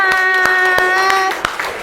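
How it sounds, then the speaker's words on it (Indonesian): An audience at a class presentation on waste management claps hands, a few distinct claps over a sustained tonal hum, with rougher, scattered clapping toward the end. "Beri tepuk tangan"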